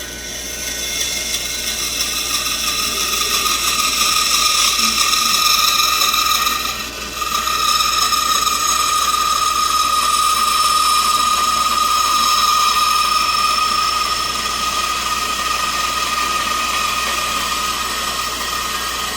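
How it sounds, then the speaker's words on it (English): A bandsaw cutting scrap wood gives a loud, continuous high whine and rasp, with a brief dip partway through before the cut carries on, and no talking. "let's head back over to bandsaw and see what we can do"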